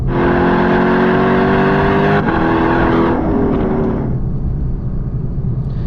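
A loud naturally aspirated 2024 Lexus LC 500 engine revs high with a sharp, harmonic wail, then the pitch drops and falls away as the throttle is released.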